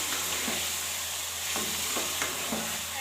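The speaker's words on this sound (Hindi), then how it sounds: "अच्छी तरह से मिक्स करेंगे।" Shan biryani masala fries in a pot as it is stirred, a steady loud sizzle broken by a few spoon scrapes at close range, with no speech.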